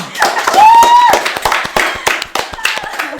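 A small group gives a quick round of clapping for a friend at a student art-education association gathering, close and crisp, with a voice and a brief whistle-like tone over the start.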